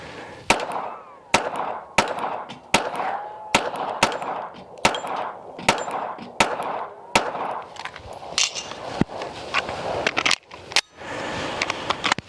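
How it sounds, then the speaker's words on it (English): Springfield Armory Hellcat Pro Comp OSP pistol firing 147 grain rounds at a small target, about a dozen sharp loud shots in an uneven rhythm, with faint voices between them. "Shoot at that small little target."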